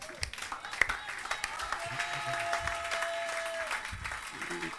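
A church congregation breaks into sustained applause to acclaim the Lord, clapping steadily across the room with a few sharp claps standing out and voices mingling underneath.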